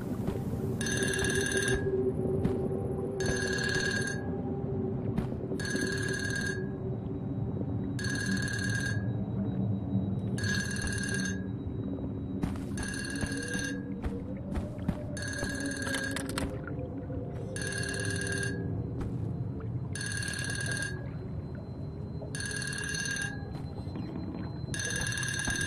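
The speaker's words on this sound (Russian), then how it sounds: "Нам звонят." Telephone ringing in the horror game Unforgiving, a steady repeating ring pattern of about ten evenly spaced bursts over a low droning ambient background.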